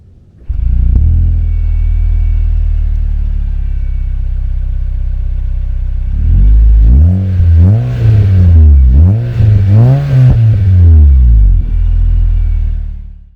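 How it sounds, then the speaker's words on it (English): A BMW 335i engine with a small exhaust idles with a low steady rumble, then revs up loudly several times in quick succession, rising and falling before settling back down. "The car sounds pretty cool. I'll show it to you guys."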